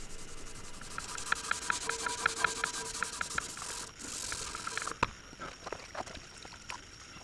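Fuel oil and a Scotch-Brite pad scrub deposits off a slipping firewood winch, a run of quick, close rhythmic rubbing strokes followed by scattered scrapes and knocks.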